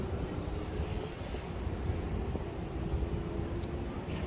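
Wind blowing across a penthouse balcony in Bangkok, buffeting the microphone with a constant low rumble and roar and a faint steady hum beneath.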